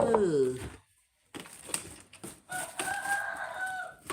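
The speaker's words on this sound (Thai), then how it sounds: "โจ๊กเก๊กโจ๊กเก๊กตื่นขึ้น ธรรมชาติเขาขัน" A rooster crows in an outdoor morning setting, the call's harmonics rising and falling for about half a second before a brief silence, then followed by mixed background noise and talk.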